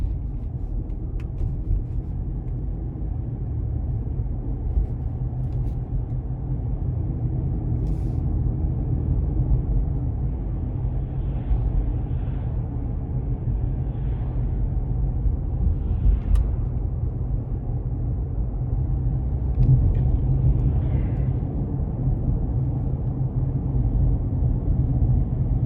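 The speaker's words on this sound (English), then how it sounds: "This truck accelerates a lot faster than I would expect." A 2020 GMC Canyon SLE Elevation Edition 2WD pickup truck accelerating on the road, heard from inside: a steady low engine drone and road rumble that swells slightly toward the end, with no talking.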